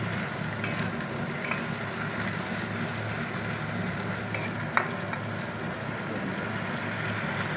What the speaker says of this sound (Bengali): পেঁয়াজ বাটাটাকে আমি এর মধ্যে দিয়ে দেবো, দিয়ে নাড়াচাড়া করে নেবো।